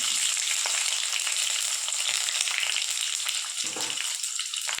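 Onions frying in hot oil in a pan for green chicken, a dense continuous hiss and crackle of sizzling at close range with occasional stirring.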